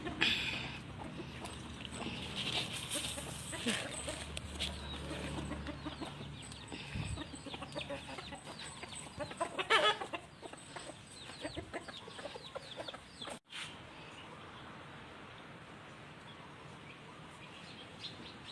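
Chickens cluck and murmur close by, a busy flock calling on and off, with a brief thump partway through before the clucking carries on quieter.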